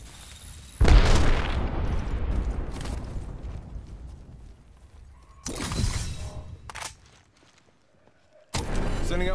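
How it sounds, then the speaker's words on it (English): A grenade explodes in the battle royale video game Apex Legends, with a sharp loud blast and shattering burst followed by decaying rumble, then further loud bursts a few seconds later. "Look out, grenade."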